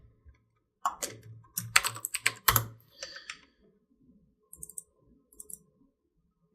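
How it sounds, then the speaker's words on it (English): Clicky typing on a computer keyboard, a rapid burst of keystrokes in the first half followed by a few sparse, quieter taps, close and alone with no talk. "Typing."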